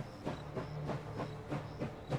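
A train in the Last Train Home video game rolling slowly into a station, with rhythmic clickety-clack of wheels over rail joints repeating steadily and a faint hiss beneath.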